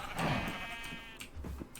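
A Minecraft sheep bleats once, a wavering tonal call near the start that fades into soft game sounds and faint clicks afterward.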